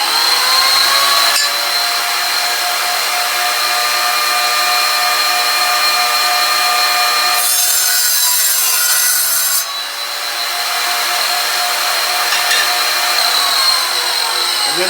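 A tile wet saw whines steadily as its blade cuts into tile for trim, a loud continuous high grinding with a harsher, brighter stretch partway through before settling back.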